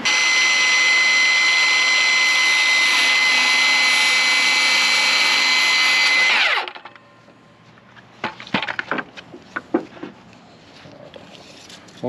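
A power saw cuts wooden upright corner pieces for a box, a loud, steady high-pitched whine for several seconds that winds down, followed by scattered clatter of wood being handled.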